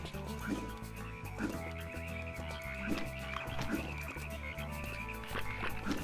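Frogs croak in the Ty the Tasmanian Tiger video game, a chorus of deep rhythmic croaks repeating about every second over a looping game music bed.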